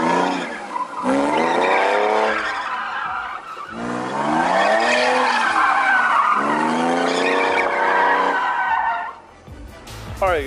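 A BMW E46 drifts with loud, sweeping tire squeals in several long bursts, the pitch bending up and down over the engine's roar, close and intense, with a brief pause between slides.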